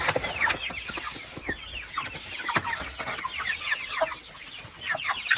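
A flock of chickens with a rooster clucks and chatters continuously in a farmyard, many overlapping short calls near and far, with small scuffles and bumps between them.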